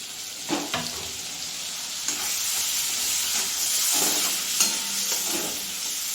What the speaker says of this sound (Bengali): টমেটোটা নরম হয়ে গেছে, একটুখানি জল দিচ্ছি।